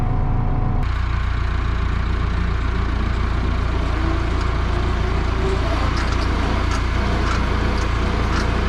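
A truck stuck in snow has its engine running continuously, a loud, steady low rumble with a sharp start at the beginning. Speech can be heard faintly over it.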